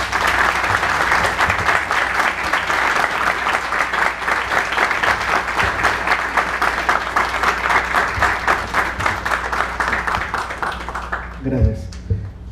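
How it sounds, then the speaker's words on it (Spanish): Loud, sustained applause from a conference audience fills the room for about eleven seconds, dense and steady before tapering off, with a few voices at the very end. "Un aplauso fuerte, por favor."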